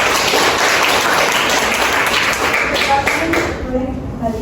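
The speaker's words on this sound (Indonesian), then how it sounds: "Boleh beri tepuk tangan yang meriah." Lively applause fills a hall after a performance at an Indonesian Independence Day school event, a loud, close burst of many hands clapping that thins out near the end as voices emerge.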